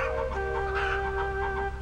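Birds in the video game Chu-Lip cluck and crow in a short, lively burst over a droning game music tone, with no talking.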